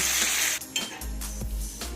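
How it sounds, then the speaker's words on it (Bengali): Prawns fry in hot oil, a brief bright sizzle lasting about two seconds, broken by a few clinks and scrapes of a utensil against the pan. "আমার কিন্তু লাল করে ভাজা হয়ে গেছে এবার আমি মাছগুলোকে তেল থেকে উঠিয়ে নেব"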